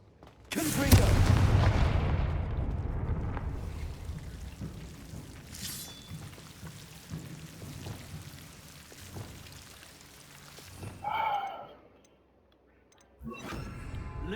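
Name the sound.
Confringo fire spell explosions in the Hogwarts Legacy video game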